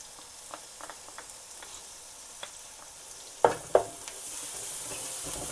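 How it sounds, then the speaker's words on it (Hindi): Ginger garlic paste sautés with onions in a pan for chicken keema spring rolls, a low steady sizzle with a few soft stirring scrapes and two sharper knocks of the spoon near the end, no voices. "और इसको थोड़ा भून लेंगे लहसुन अदरक को।"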